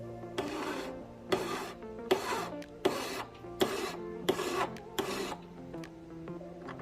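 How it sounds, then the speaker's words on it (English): A coarse hand file from Home Depot rasps across a workpiece in seven or eight strong, evenly spaced strokes, each a loud, gritty scrape rising and fading, heard up close with no talking. "I'm just gonna take it right here and I'm just gonna start filing away"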